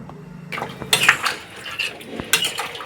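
Hot water poured into a pan of chicken curry, a sudden splashing pour with a few metallic clinks against the pan, close and fairly loud, no voices.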